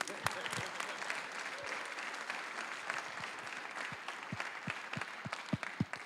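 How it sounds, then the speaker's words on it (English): Audience at a community business gathering breaking into applause, a dense, fairly distant wash of many hands clapping, steady throughout with a few louder individual claps near the end. "You can clap for that, by the way."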